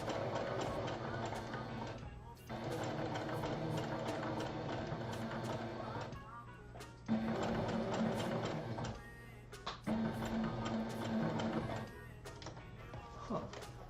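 A sewing machine stitching a Resident Evil tentacle prop, running in steady mechanical bursts with brief pauses, fairly quiet and close throughout.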